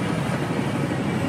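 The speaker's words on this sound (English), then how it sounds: "It's helicopters." Helicopters flying in a skibidi toilet multiverse video game, a steady loud rotor and engine drone with a low chopping pulse, continuous and close throughout.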